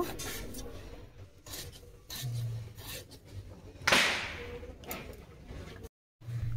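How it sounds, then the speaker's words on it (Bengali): A knife slices bitter gourd and potatoes for a Bengali mustard-oil dish, giving a string of close, irregular chops and scrapes on a board with one sharper whip-like cut, over low kitchen background noise. "করলা কেটে নিচ্ছি, আলু কেটে নেব"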